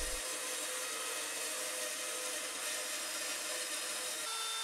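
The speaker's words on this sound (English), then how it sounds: "I do this just using the bandsaw." Bandsaw trims the overhanging edges of wooden panels on a wooden case, a steady, even whirring hiss of blade through wood throughout, close and alone.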